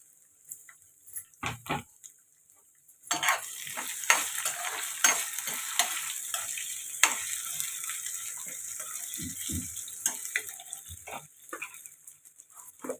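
Potato and carrot pieces hit a pan of fried onions: a near, loud, steady sizzle starts abruptly after a few seconds of quiet handling knocks, with scattered stirring scrapes and clicks throughout.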